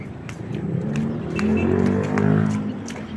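Cars pass on a highway with engine and tyre noise that swells and fades in overlapping waves, heard close from a roadside or a moving vehicle, with no talk.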